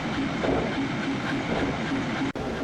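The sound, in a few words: diesel engine trains running, cartoon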